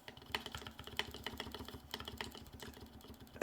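Keys typed on a Dao mechanical keyboard, a steady run of close, crisp clacks at a quick uneven rhythm, fairly quiet and with no talking, ending in a sharper louder press.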